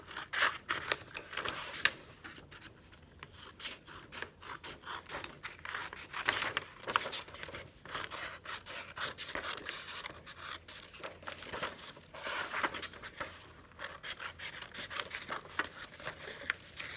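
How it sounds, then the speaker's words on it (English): Scissors snip through orange paper along a zigzag line, a steady run of quiet crisp cuts and paper rustles continuing for several seconds with no talking. "Now that you have a good zigzag line on your orange paper, it's time to cut."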